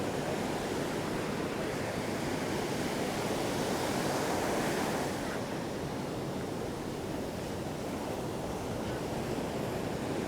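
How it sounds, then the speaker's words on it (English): Ocean surf breaks continuously on Boca Raton Beach in Florida, a broad, steady roar of waves mixed with wind buffeting the microphone, with no voices heard. "I wonder if the waves are strong all the way down the coast."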